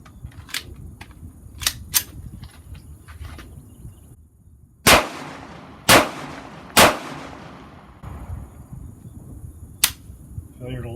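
Remington RP9 9mm pistol firing Black Hills 115 grain full metal jacket rounds at a range: three loud, sharp shots about a second apart, with a few fainter distant pops before and after over outdoor background noise.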